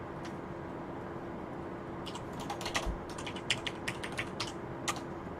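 Quick, faint clicks of keys on a computer keyboard as a password is typed while setting up a virtual machine, a short irregular burst of keystrokes over a low steady background hum.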